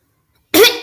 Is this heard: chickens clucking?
no